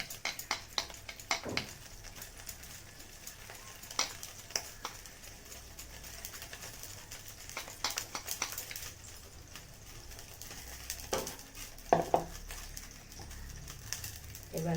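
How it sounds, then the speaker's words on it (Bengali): Gram flour (besan) batter being whisked by hand for pakoras, heard as faint, irregular soft tapping and clicking strokes that come and go over a quiet room background, with no talk. "আমি বেসনটাকে এভাবে ভালো করে ফেটিয়ে নিচ্ছি"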